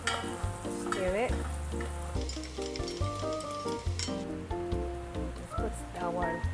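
A tomato soup base for grilled tomato soup sizzles steadily in a pan on low heat while being stirred, over a continuous layer of background music.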